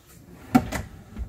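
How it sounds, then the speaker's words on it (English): A pull-out pantry drawer in an RV park model kitchen slides open with a quick knock and a short rolling rattle, followed by a faint bump, heard close and alone. "We've got pull-out drawers,"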